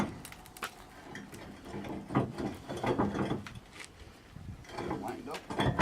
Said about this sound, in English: I'll just get a couple nuts here tightened here.